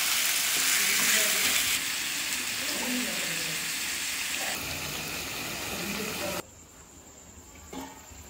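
Food sizzles and crackles steadily in a hot wok, fish cooking in oil, loud and close, fading to a quieter hiss partway through.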